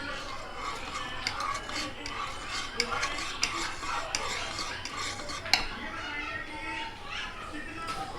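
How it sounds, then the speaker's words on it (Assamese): Sugar being stirred into a boiling pot, with soft repeated scraping and clinks of a spoon against the vessel at close range, low bubbling underneath and distant voices in the background. "এইখিনি কুৰা উতলি আছে ইয়াতে মই এতিয়া চেনি দি দিম চেনিখিনি"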